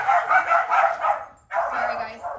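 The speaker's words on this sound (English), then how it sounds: "My dogs are chasing my cats." Pet dogs barking and yipping as they chase cats around a home kitchen, with someone talking loudly over the close, repeated barks.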